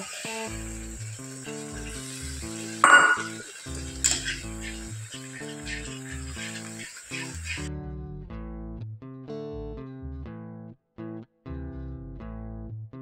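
Ginger paste fries in hot oil with a bright hiss for the first several seconds, partly masked by loud rhythmic background music that carries on after the sizzle fades.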